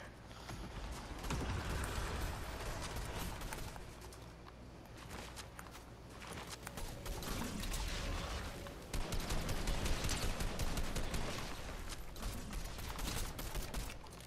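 Rapid bursts of gunfire from behind the player in Fortnite, fairly distant and blended into a dense, continuous wash of game noise with mechanical clatter, no talk.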